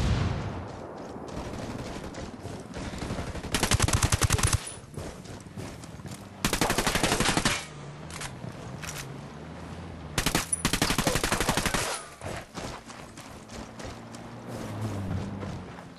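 Bursts of automatic gunfire in Ghost Recon Wildlands, three loud sustained volleys with quieter single shots and game ambience between them.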